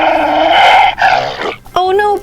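Cartoon big dog growling at the bottom of a playground slide in a children's toy episode, a loud rough sustained growl for over a second, then a short pause and high squeaky character sounds.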